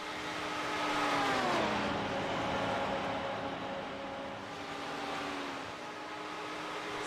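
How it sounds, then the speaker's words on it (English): Ferrari and Lamborghini GT race cars roar around Texas Motor Speedway in a racing game, engines droning loud and steady with pitch sweeping down as they brake into a turn, no voices. "It's a great Ferrari Lamborghini battle coming into turn one."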